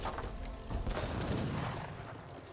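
Heavy cannon blasts boom continuously amid a dense, roaring battle din in Age of Empires 3, loud and sustained with no clear gaps between shots.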